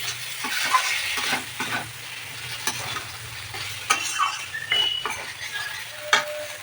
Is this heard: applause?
no